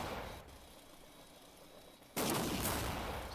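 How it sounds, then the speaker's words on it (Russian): Video game gunfire as a dull continuous rumble that jumps abruptly into a louder, denser burst of shots partway through, with no talk over it. "Кто-то у меня стреляет."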